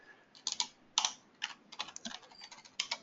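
Someone types on a computer keyboard during a PTV Vissim software session, quick uneven clicks and taps in short clusters, close and fairly quiet, with no talking.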